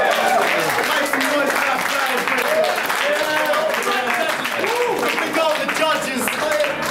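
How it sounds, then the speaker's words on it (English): A crowd at a rap battle cheers and applauds, a dense wash of clapping mixed with shouts and voices, loud and continuous throughout. "Cheer."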